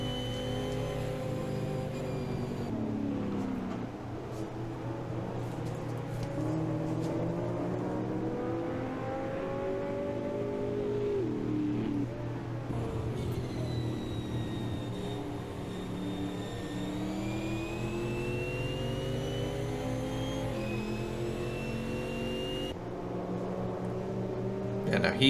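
A Chevrolet Camaro race car in Automobilista 2 at Donington, its engine climbing and dropping through the gears in long revving sweeps, steady over the constant drone of other cars, with a commentator talking over it.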